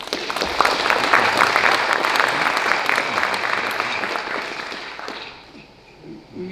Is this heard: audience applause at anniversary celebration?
yes